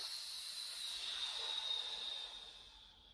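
A long, breathy exhale during a postnatal core and hip-hinge exercise, a close, soft airy hiss that swells and then tapers away over a few seconds, with no speech.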